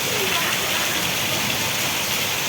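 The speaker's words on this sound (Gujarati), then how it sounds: "જુઓ તમે અત્યંત ભારે વરસાદ પડી રહ્યો છે" Very heavy rain pours down steadily over the village of Vejalka in Botad district, a dense, loud, unbroken wash with no gaps between drops, close and filling the whole scene.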